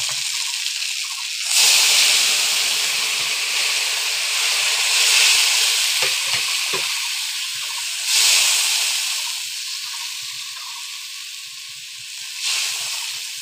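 Water poured into a frying potato curry on a clay stove, a loud hissing burst of steam and sizzle that swells and fades in waves over a steady background hiss.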